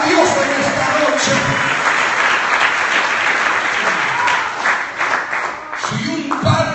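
Loud, sustained audience applause fills a church service at night, dense clapping with some cheering throughout, thinning toward the end as a voice begins to speak over it.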